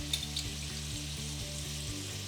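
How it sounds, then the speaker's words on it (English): Fried tomato goes into a hot pan for Spanish patatas riojana and sizzles with a steady, soft hiss, heard alone under a rhythmic low background tone. "I'm going to put the fried tomato in"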